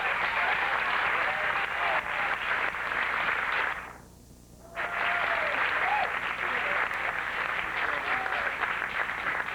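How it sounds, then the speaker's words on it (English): An audience at a 1994 entertainer-of-the-year pageant applauds its chairman, a loud, dense wash of clapping that briefly dips away in the middle before swelling back up and continuing strongly. "Would you give a nice round of applause for National Entertainment System's chairman, Mr. Kevin Scott."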